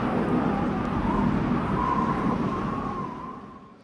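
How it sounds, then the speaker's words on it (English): Dry desert wind from McCree's Deadeye ultimate in Overwatch rushes as a steady, broad hiss and rumble, then slowly fades out toward the end, with no other sounds over it. "a dry desert wind"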